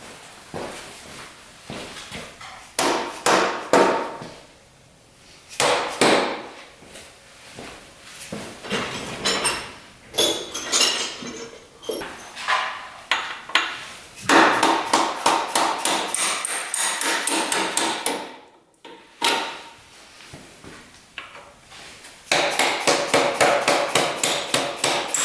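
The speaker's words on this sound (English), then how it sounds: "the bolt here and the one you can see down here have to be hammered out" A bolt is hammered out of an old 1200cc motorcycle, with loud, close metallic blows in quick bursts of rapid strikes separated by short pauses, continuing throughout.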